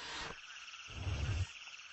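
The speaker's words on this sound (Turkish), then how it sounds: "kara kurbağaları aşka geliyor ve çiftleşme çağrıları yapıyor" Toads trill in overlapping calls at night, a buzzy chorus rising and falling close by, with a low rumble swelling in the middle.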